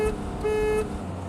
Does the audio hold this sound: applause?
no